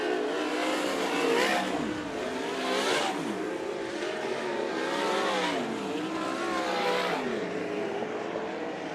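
Race cars circling the track at Bakersfield Speedway during a heat race: loud engines rise and fall in pitch as cars pass and rev, a continuous roar over nine seconds with repeated swells.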